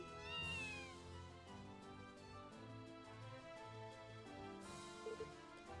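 A cat meows several times in an anime episode, high wavering calls heard over quiet background music, fairly faint and clustered at the start and near the end.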